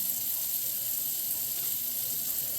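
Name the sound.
water running from a tap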